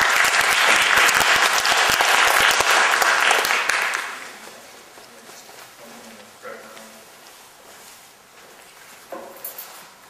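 Audience applause greets a speaker at a design talk, loud and dense for about four seconds, then fading out into quiet room noise with a few faint thumps.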